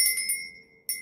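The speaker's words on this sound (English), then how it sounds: "Now I'm going to be ringing some bells." Two bright bell strikes ring out, used to cleanse a space; the first rings and fades over most of a second, then a second strike sounds near the end, clear and sustained with no talking.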